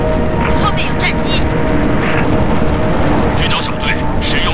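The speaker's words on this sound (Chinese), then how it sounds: "后面有战机" Enemy fighter craft roar past from behind in Halo: Reach on Xbox 360, during a space dogfight alongside Saber squadron: a loud, steady, close engine rush with brief hissing bursts layered on top, while voices speak intermittently over it.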